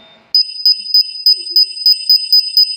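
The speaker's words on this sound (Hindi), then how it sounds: "ये बीपिंग किस बात की हो रही थी बे?" A bomb from Poppy Playtime beeps in a steady rapid pattern of high electronic double-beeps, loud and alone, repeating about ten times.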